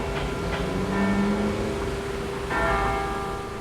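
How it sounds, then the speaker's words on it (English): A church bell from St. Boniface rings, its steady tone sounding at a distance over low outdoor rumble, with a second struck note arriving partway through and hanging in the air. "when a special bell from St. Boniface rings, Dina, Mike, Nancy, Kim, and their neighbors"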